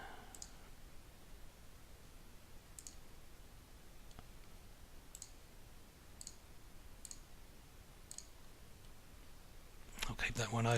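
Sparse, faint computer mouse clicks spaced a second or two apart over a quiet background hiss, with a louder burst of handling noise at the end.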